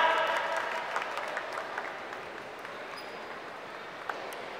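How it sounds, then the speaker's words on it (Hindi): Audience applause for comedian Nitin Anand fills a comedy venue, a dense patter of clapping that starts strong and gradually thins and fades over a few seconds. "A big round of applause for Nitin Anand."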